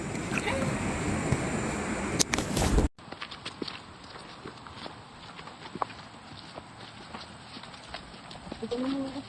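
Hooves clip-clop in a loose walking rhythm through much of the clip, moderately close, after a burst of louder rumbling noise at the start.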